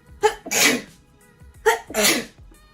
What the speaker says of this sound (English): I'm sneezing so much that I can't